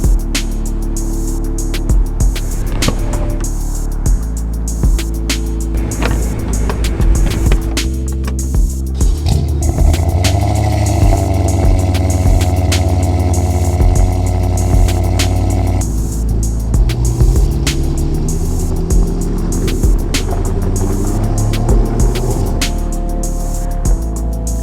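BMW M6 driving on the road, its engine a steady loud rumble with road and wind noise throughout, briefly building in intensity around the middle before settling back into continuous cruising.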